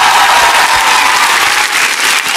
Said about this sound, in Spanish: hay que darle un fuerte aplauso por su profesionalismo